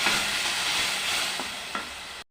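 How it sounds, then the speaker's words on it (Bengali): Whole cumin seeds tempering in hot oil with teasel gourd added to the pan, a steady close sizzle broken by a few soft stirring scrapes before it suddenly stops. "গোটা জিরে ফোড়ন দিয়ে দিলাম, কাঁকরোল দিয়ে দিলাম"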